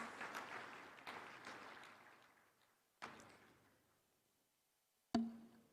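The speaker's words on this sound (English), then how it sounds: "Kindly give them a round of applause." Applause from an audience at a devolution conference in Eldoret, Kenya, fading quickly, followed by two sharp isolated thuds with silence between them.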